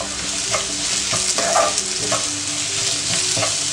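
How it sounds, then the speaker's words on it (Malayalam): Capsicum strips cut lengthwise stir-fry in a pan over high flame for a restaurant-style dragon chicken, giving a steady loud sizzle broken by regular scraping stirs and clatters, close up with no talking. "ഞാൻ അതിലേക്ക് നമ്മൾ മുറിച്ച് വെച്ചിരിക്കുന്ന ക്യാപ്സിക്കം ഇട്ട് കൊടുക്കുകയാണ്."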